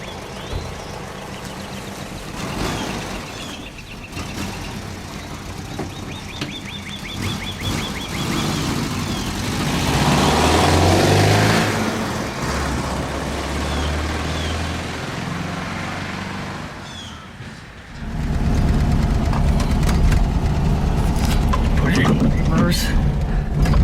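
A 1971 VW Type-3 Squareback 1600 Variant with a very dirty windshield drives around the block, its engine droning and rumbling steadily from inside the cabin, swelling louder midway, dipping briefly, then surging again near the end.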